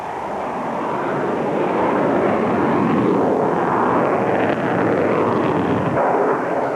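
A Sukhoi Su-35 fighter jet with a vectored thrust engine roars loudly and steadily, a dense, continuous broadband rush that swells slightly and holds for several seconds with no voices.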